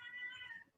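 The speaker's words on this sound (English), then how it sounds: "You might hear my cat yelling at me in the background." A pet cat yowls once in the background, a faint drawn-out cry under a second long that fades at the end.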